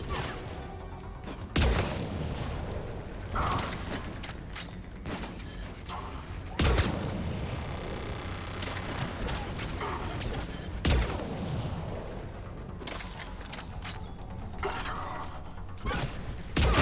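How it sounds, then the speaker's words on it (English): Gunfire in the video game Mass Effect 3, with dense, overlapping shots and bursts rattling almost continuously, louder cracks standing out at intervals over a busy mechanical background. "Somebody's shooting me, I just don't know from where."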